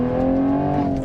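A Toyota GR Supra A91 MT Edition from 2023 with a manual gearbox accelerates hard, its engine drone steady and loud with a rising pitch, and nobody talking.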